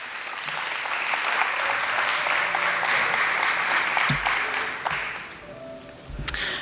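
Graduation audience at a Harris-Stowe State University Honors College ceremony applauds in a steady, dense wash of clapping that holds for several seconds before thinning and fading toward the end.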